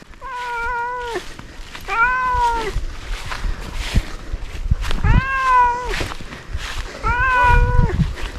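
Several long, insistent meows from a nearby cat, four calls spaced a second or two apart over a low rumbling background, in a rural Sundanese village during harvest.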